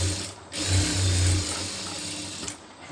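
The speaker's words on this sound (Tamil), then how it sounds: "இப்போ முதல்ல வந்து சென்ட்ரு தையல் போட்டுக்கிறோங்க" A sewing machine stitches the center seam of an Aari blouse, a steady close mechanical whir with a ratcheting rhythm that runs about two seconds before stopping. No voices are heard.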